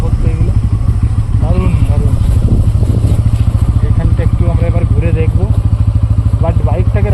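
A motorcycle engine runs close by near old temples in Pathra, Medinipur, with a steady, pulsing putter throughout and someone talking over it.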